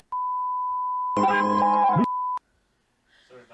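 A steady, loud censor beep tone runs for about two seconds over the name in an old toy advert. Brief advert audio breaks through in the middle, and faint talk follows after the beep ends.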